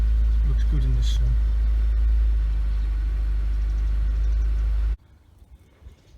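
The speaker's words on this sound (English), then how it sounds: "the car's running at the moment" A Honda S2000 idles with a steady low rumble, joined by a brief voice near the start, until the engine sound cuts off abruptly near the end.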